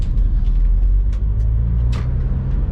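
Volkswagen Golf R on the road, heard from inside as a steady deep engine and tyre rumble with no talking.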